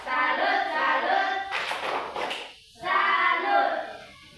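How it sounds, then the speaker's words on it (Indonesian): A primary school class claps rhythmic patterns in unison during a salute chant, children's voices chanting between bursts of clapping, with a short pause before the final round. "tepuk salut dulu untuk kita"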